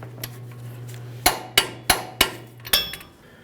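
Sharp metallic impacts strike the ball joint nut on a 2003-2011 Mercury Grand Marquis front strut assembly, about six close, loud hits in an uneven rhythm over a low steady hum.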